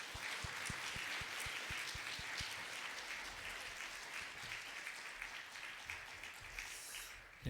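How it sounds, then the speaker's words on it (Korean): A congregation claps at a pastor's ordination ceremony in a Baptist church, dense sustained applause that fills the room for several seconds, fairly distant and even, with a few sharp individual claps near the start. "우리 크게 한번 박수합시다."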